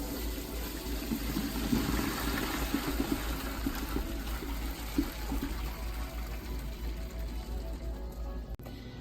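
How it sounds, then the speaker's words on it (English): Hot cooked pasta water pouring out of a pot into a sink, a steady rushing and splashing gush that continues throughout at close range, ending with a brief knock. "I'm draining my pasta"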